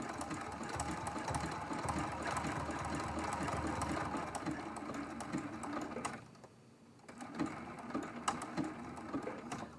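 A sewing machine quilts around the edge of a flower appliqué on a quilt block, running in quick rhythmic bursts at close range, then briefly pausing before stitching resumes more unevenly.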